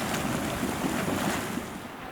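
A continuous bubbling, churning rumble of a boiling mud pool in north central California, close and steady, with windy noise on top and no voices.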